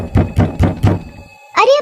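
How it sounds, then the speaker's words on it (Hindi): Four evenly spaced knocks on a door in a Hindi cartoon horror story, loud and close, followed by a short voiced sound at the end. "तभी फिर से कोई दरवाजा खटखटाता है"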